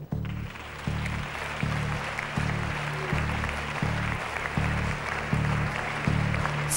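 Applause from the crowd at a Miss Italia 2005 preliminary selection, a steady patter of clapping riding on top of a loud, regularly pulsing backing beat from start to finish.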